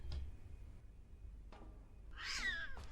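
A cat meows inside the horror video game Amber Alert, a loud, sharp cry rising out of quiet in-game ambience, with scattered soft thuds and footsteps before it.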